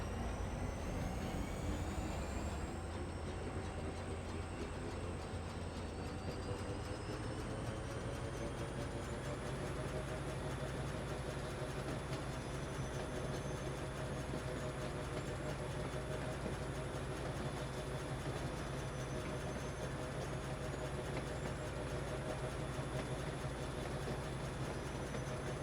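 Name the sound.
trains running in Foundry video game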